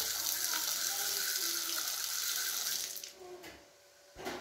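A freshly repaired faucet runs with a steady, hissing stream of water for about three seconds, then the flow is cut and the sound trails off before a brief knock at the end.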